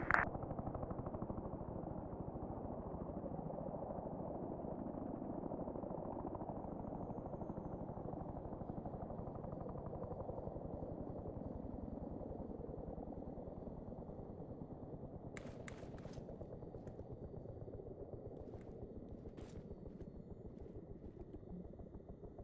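An ARMA 3 helicopter touches down and spools down: a loud, steady rotor and turbine rumble fills the whole stretch and eases only slightly, with a few sharp clicks late on and no voices.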